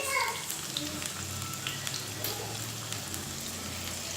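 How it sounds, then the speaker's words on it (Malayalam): Sliced onions hit hot oil for vegetable fried rice, sending up a steady close sizzle and crackle that holds at an even level throughout with a few sharper pops. "നമുക്ക് എണ്ണ ചൂടായി വരുമ്പം അതിലേക്ക് നമ്മുടെ സവാള ചേർത്ത് കൊടുക്കുക"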